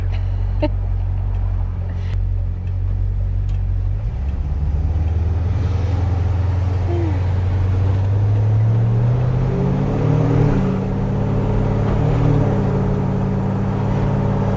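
A 1969 Dodge Polara with a 440 V8 rumbles along while driving, a loud, steady low engine drone with a shift in pitch partway through as it changes speed.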